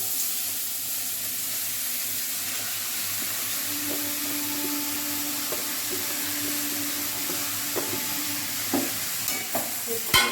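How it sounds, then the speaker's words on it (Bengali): Bottle gourd pieces tipped into spice paste frying in a pan for lau chingri, a steady sizzle with stirring scrapes and a few sharper knocks toward the end, close by with no talking. "মশলাটাকে আমি খুব ভালোভাবে কষিয়ে নিয়েছি এবারে লাউগুলো দিই এবারে লাউগুলো দিয়ে দেবো"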